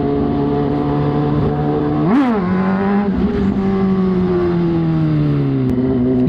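Motorcycle engine idling steadily with a deep, continuous hum, then revving up sharply once around the midpoint before settling back to an even rumble, close and loud throughout with no talking.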